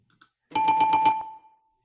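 Quiz show bell rung for a correct answer, a quick series of about five bright ringing strikes followed by a short fading tone, preceded by a couple of faint clicks.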